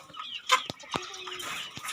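Dekalb chickens cluck in a farm pen, with several short calls and a few sharp bursts over a low background of other flock noise.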